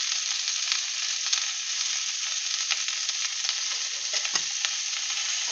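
Cauliflower and potatoes with turmeric, salt and chili powder fry in a pan, giving a steady close sizzle with faint crackles and occasional stirring scrapes.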